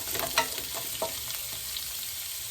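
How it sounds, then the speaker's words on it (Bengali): Onions for a fish-head murighonto fry with a steady close sizzle in a pan over a gas flame, with scattered scraping clicks as a spoon stirs them; no one speaks. "পেঁয়াজটা নরম হয়ে যাওয়ার জন্য ভালো করে নেড়ে"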